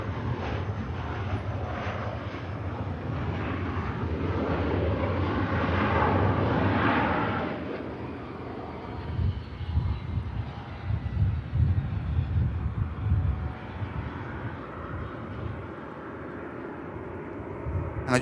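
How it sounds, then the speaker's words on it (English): A Learjet at Manchester Airport makes a broad jet engine roar that swells and then fades into a gusty, distant rumble, with wind buffeting the microphone. "Here's that beautiful Learjet. Great looking little aircraft."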